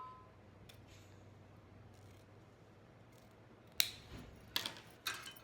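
Scissors snipping through decorative ribbon for a bow, cut at an angle, three crisp close snips near the end after a quiet stretch of faint room noise.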